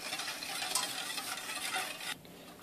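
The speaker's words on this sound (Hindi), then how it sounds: "अब मैं इसमें डाल दूंगी कॉर्नफ्लावर 2 टेबलस्पून और इसको मिक्स कर लेंगे।" A spoon stirs milk, sugar and cornflour together in a pan for peach pudding, a steady, close swishing that stops abruptly near the end.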